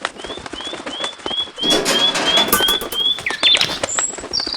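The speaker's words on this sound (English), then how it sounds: "The bird has flown in." A bird, likely a pigeon or dove, flies in with a rapid series of wingbeat flutters and short chirps, fairly close and loud, with no talk over it.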